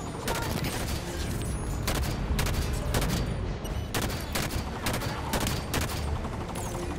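Rapid gunfire in the video game Halo 5: Guardians, loud repeated bursts of automatic shots in close succession over a dense combat background.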